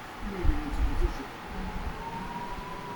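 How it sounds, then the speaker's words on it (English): Air raid sirens wailing across Tel Aviv, a distant rising and falling tone carried under a rumbling, noisy outdoor background. "The air raid sirens now started here in Tel Aviv."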